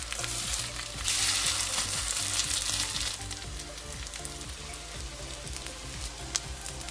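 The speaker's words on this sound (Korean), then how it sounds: "계란물에 적셔 재료를 올려 중불에서 구워줍니다" Perilla leaf pancakes dipped in egg wash crackle in a pan over medium heat, a close, steady spitting sizzle that is louder at first and then settles, with light scrapes of the pan.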